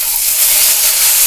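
Onion and capsicum sautéing in oil with fennel seeds, a steady close hiss of sizzling that holds level and loud throughout with no talk.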